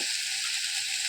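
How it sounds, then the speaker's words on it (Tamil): Tomatoes cut into large pieces sauté in a hot pan with oil, giving a steady, even sizzle that runs alone throughout. "இப்போ தக்காளி ஓரளவு வதங்கிடுச்சு"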